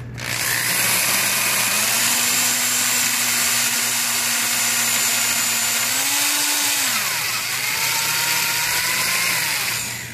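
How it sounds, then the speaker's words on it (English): A power drill drilling a pilot hole during a Mazda Miata headlight install runs continuously up close, its motor whirring steadily with a brief rise in pitch partway through, no voices. "Usually if you have a smaller bit and you have a chance to drill a pilot out"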